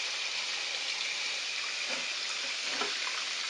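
Running tap water pours steadily over a whole raw turkey being washed in a sink, a continuous hissing splash with faint shifting thuds as the bird is handled.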